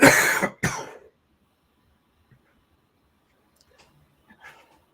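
A sharp, loud cough at the start, quickly followed by a second, then near silence with a few faint, soft sounds.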